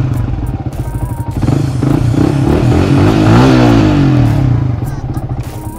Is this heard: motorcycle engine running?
yes